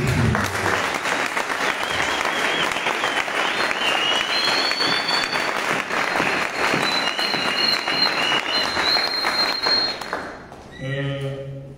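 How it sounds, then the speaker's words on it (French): A youth conference audience bursts into loud, sustained applause and cheering for about ten seconds, which fades before a voice begins speaking. "Est-ce qu'on peut acclamer?"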